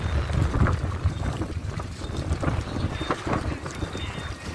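A single-sail sailboat moves across open water during a sailing competition in Italy, with steady wind buffeting the microphone and low rushing noise throughout, loudest early on.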